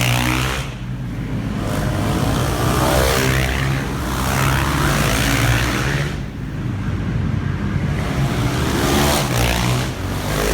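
Supermoto motorcycles racing on a street course with on- and off-road sections, engines roaring loudly as bikes pass close in waves, revving and fading, with two strong surges through the run.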